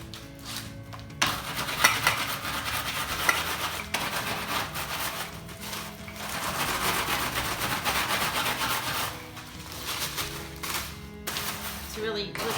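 Cheesecake crust crumbs being rolled until finely ground, a steady gritty rubbing and crunching that comes and goes in strokes, with a person talking over it.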